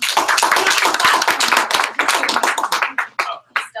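Group of people clapping at a makerspace member meeting, a dense burst of hand claps that thins into scattered individual claps toward the end, fairly close and loud.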